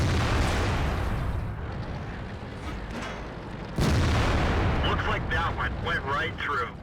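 A heavy tank gun booms in World of Tanks, a rumbling battle ambience broken by a sudden loud cannon shot and impact, with engine and track noise continuing and someone talking over it.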